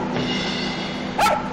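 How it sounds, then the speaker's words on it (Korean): Small dogs, Spitz siblings out on a walk, bark and yip in a brief loud burst near the end, over steady outdoor background noise. "예, 짖는 것 같아요"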